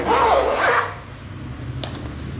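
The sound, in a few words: closing the zipper of a fabric pencil case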